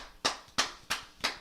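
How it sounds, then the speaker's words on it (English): A single person clapping four times at an even, slow pace, close and fairly quiet, each sharp clap ringing briefly with nothing else audible. "we'll give you a round of applause."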